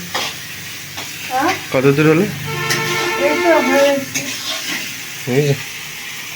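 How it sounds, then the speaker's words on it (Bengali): Oil sizzles and crackles steadily in a pan as fish heads fry, while people talk nearby over the frying. "মাথাটা ভালো করে ভাজা"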